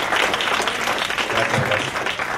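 An audience at a presentation event applauds steadily, dense even clapping that fills the whole moment, fairly close and loud, with a faint voice underneath.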